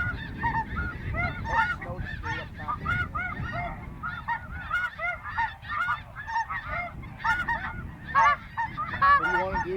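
Flock of snow geese honking continuously during a goose hunt, many overlapping calls near and far in a dense, busy chorus without talk.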